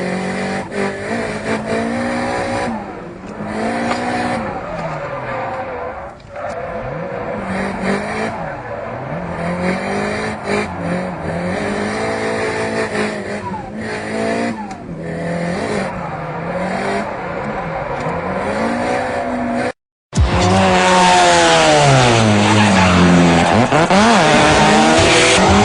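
Drift cars at a D1 championship round at Fuji circuit in Japan, loud engines revving and wailing through rising and falling pitch with sustained tire squeal, a brief cut, then another car roaring close by.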